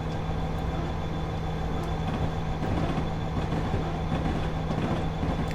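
A Metra SD70MACH locomotive running in Train Simulator 2019, with a steady rumbling diesel drone and rolling rail noise, a low hum and faint clicks of wheels over track joints, continuous and fairly loud with no talking.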